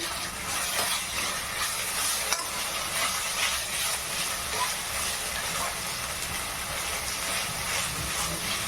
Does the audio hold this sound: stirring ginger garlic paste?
yes